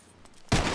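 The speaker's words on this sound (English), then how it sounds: "Just draw your gun and aim when you're ready, all right? Shoot!" A single loud, close gunshot from a Red Dead Redemption 2 duel cracks out abruptly after a brief quiet pause, with its echo filling the rest of the moment.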